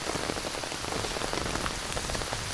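Heavy rain pouring down during a flood at a family home in Kerala, a dense, continuous hiss of drops striking surfaces close by, with no voices.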